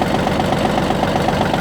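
A Yanmar F180 mini tractor with about 305 engine hours idles steadily close by, its diesel engine giving an even, continuous low rumble with a light rhythmic knock and no voices.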